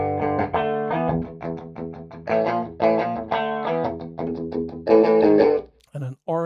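Guitar played through a simulated Hi-Watt Custom 100 amp in the Speakerphone 2 plugin, a run of fairly clean sustained notes and chords with a brief pause near the end.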